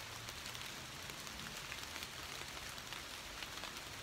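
Steady rain falls on a front yard, a dense, even broadband patter of drops on wet surfaces that runs unbroken and fairly soft throughout, with no voices.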